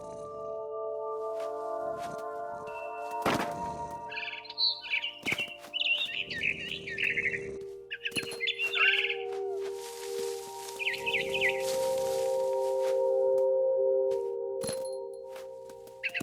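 Barn swallow chirps in What Remains of Edith Finch, bright chattering calls in several bursts over a steady ambient game drone, with sharp cracking and clinking hits scattered among them.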